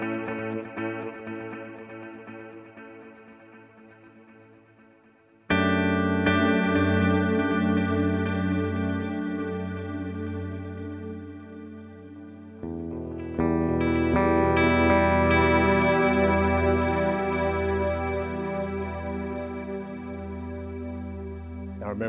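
Guitar chords played through a Fractal FX8 quad-tap delay with heavy feedback at 40 BPM, repeats stacking into a dense, swelling wash that shifts at each new chord, no talking.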